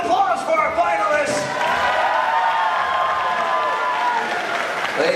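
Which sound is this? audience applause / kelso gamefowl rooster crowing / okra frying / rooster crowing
audience applause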